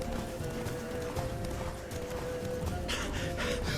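Hooves of Roach, Geralt's horse in The Witcher 3: Wild Hunt Blood and Wine, clip-clop steadily at a run throughout, close and even, with occasional snorts and game ambience underneath.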